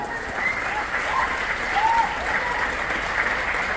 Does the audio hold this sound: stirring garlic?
no